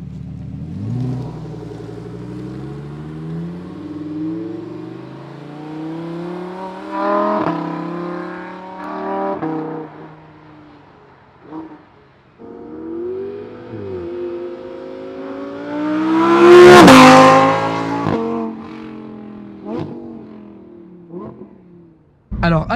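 A Lamborghini Huracan STO engine revs through rising and falling sweeps, its exhaust valves changing tone, building to one sharp, loud peak before settling back, heard alone and close.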